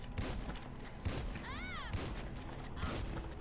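Gunfire in GTA 5 in scattered bursts of game shots set within a dense, busy mix of other game sounds, with a short rising and falling siren-like tone partway through.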